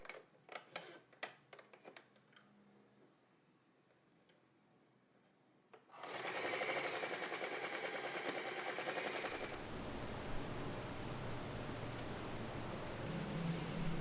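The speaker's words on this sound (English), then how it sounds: "Time to sew this part." After several seconds of faint handling clicks and rustles, a sewing machine starts up and stitches a fabric pouch at steady speed, a loud, continuous rapid mechanical rattle that carries on to the end.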